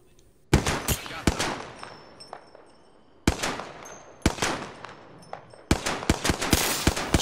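Pistol shots in Apex Legends ring out in several sharp, close bursts of quick repeated cracks, separated by short pauses, with faint game sounds in between.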